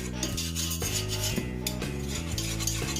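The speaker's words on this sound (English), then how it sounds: "mix the butter and the flour thoroughly" A whisk scrapes and clinks against a pan while butter and flour are stirred together into a roux, making close, steady rubbing and metallic tapping without speech.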